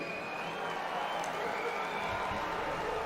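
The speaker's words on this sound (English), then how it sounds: "Round of applause for both men, please." An arena crowd applauds both heavyweight boxers after the Parker vs Fa fight, a steady wash of distant clapping and cheering that fills the whole moment.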